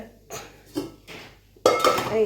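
Steel kitchen pots and utensils handled and set down, giving a few soft knocks followed by a louder burst of ringing metallic clatter near the end.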